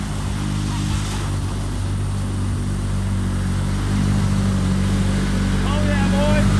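A Polaris Ranger 1000 UTV engine drones steadily and loudly as the vehicle pushes through a pond, a constant low hum with some splashing texture, and a voice speaks over it.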